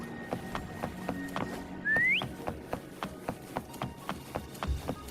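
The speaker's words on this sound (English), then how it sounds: "Try whistling." A single rising whistle calls a companion in the video game Wuthering Waves, brief and clear over rhythmic footstep-like clicks and quiet game ambience.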